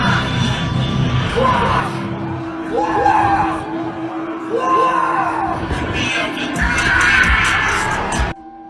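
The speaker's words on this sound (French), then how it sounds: "il pousse des cris horribles pendant son concert" A rapper lets out harsh, strained screams and yells at a live concert, loud repeated vocal bursts over pounding music with a crowd whooping and cheering in the background.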